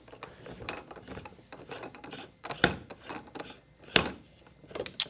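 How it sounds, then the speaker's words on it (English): The sieve column of a GCE Zen-O Lite oxygen concentrator is being unscrewed counterclockwise with a tool, producing a close, quiet series of ratcheting clicks and plastic creaks, with a few sharper snaps. "So we're going to put that in there and then just unscrew it counterclockwise."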